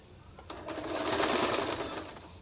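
Sewing machine stitching salwar fabric, a close continuous whirring run of rapid needle strokes that builds in speed and loudness, then eases slightly.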